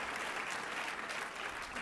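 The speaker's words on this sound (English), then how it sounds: "let's give Nicole a round of applause for her" A round of applause from guests at an awards dinner, with dense, even clapping filling the whole stretch.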